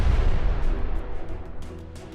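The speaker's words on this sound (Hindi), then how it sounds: "उसके बाद अल कासिम ब्रिगेड्स के लड़ाके सुरंग के मुंह को धमाके से उड़ा देते हैं।" An explosion blows up a tunnel mouth in war footage of a fighting operation in Gaza, heard as a loud, deep rumbling boom that rolls and slowly decays with scattered debris crackle.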